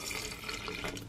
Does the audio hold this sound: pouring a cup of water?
yes